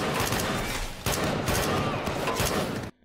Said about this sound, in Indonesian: Baku tembak terus terjadi.